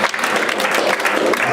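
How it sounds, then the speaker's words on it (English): A church congregation applauds in praise of the Lord, a dense, loud, continuous wash of many hands clapping together that fills the room without letup. "Let's give the Lord a clap of"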